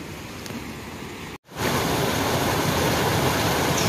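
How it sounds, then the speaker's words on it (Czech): A babbling stream in a game world rushes as a constant broadband wash, briefly cutting out for an instant before returning louder and steady. "Šumí, potůček šumí."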